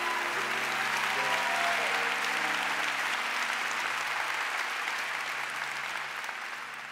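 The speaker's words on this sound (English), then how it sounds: "clap your hands to the Lord" A church congregation claps their hands to the Lord during a Sunday sermon, dense sustained applause filling the room for several seconds and tapering slightly toward the end.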